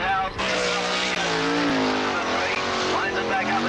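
Dirt track race cars roar around Rugby Speedway at the 1985 War of the West, engines loud and sustained with shifting pitch and tire squeal, while an announcer talks over the noise.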